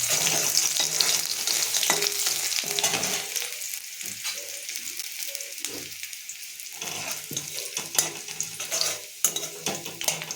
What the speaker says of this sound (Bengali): শুকনো লঙ্কা পাঁচফোড়নটা গরম হয়ে গেলে এরকম একটু রসুন দেবো